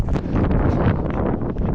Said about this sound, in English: This is very windy, and this is the path.